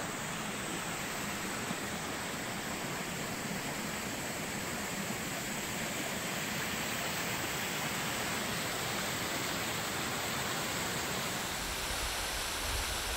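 A forest waterfall near Revelstoke, BC pours down in a dense, roaring wash of white noise, loud, steady and continuous with no other sounds standing out.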